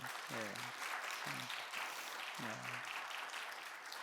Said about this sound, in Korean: 격려 박수 좀 해주시기 바랍니다.